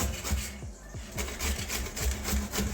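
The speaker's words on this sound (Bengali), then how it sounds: "এই যে ঘষুনি নিয়েছি এটার মধ্যে পটলটাকে আমি ঘষে নেব" Pointed gourd is rubbed back and forth on a hand grater over a plate, giving a steady run of close rasping strokes in a regular rhythm, with no talk.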